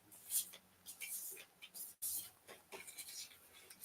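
Playing cards being shuffled by hand, a run of crisp riffling bursts and soft flutters, moderately close, with a brief pause midway and no talk over it.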